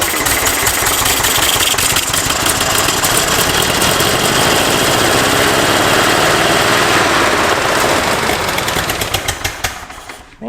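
Hot-wired old Pontiac engine on an abandoned farm, revving hard at high RPM with a stuck governor, a loud, steady, rough roar with rapid mechanical clatter that holds for about ten seconds before dropping off abruptly.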